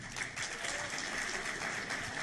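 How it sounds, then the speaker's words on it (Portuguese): An audience applauds its teachers at a health and lifestyle lecture, with dense, steady clapping that stays even and fairly loud for its whole length. "Os professores estão de parabéns, uma salva de palmas."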